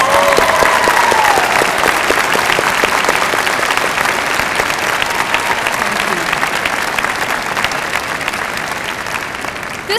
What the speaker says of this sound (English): Graduates, please give these folks a round of applause.